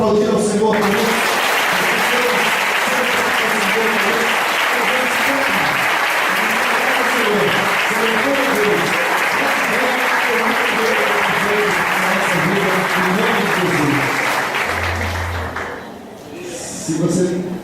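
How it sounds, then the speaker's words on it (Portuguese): A church congregation applauds for a long, dense, steady stretch, with a voice and music-like tones running underneath, before the clapping fades out and a new sound begins near the end. "Podemos todos aplaudir ao Senhor por isso?"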